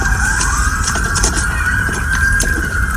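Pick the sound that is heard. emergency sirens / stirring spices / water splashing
emergency sirens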